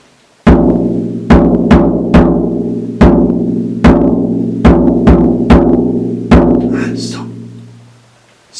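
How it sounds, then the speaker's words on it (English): Surdo, the low drum of a samba band, struck about ten times in an uneven rhythm, each deep booming hit ringing out and decaying, close and loud, ending with a faint rattle. "this drum is our low drum in our samba band, and it's called a surdo."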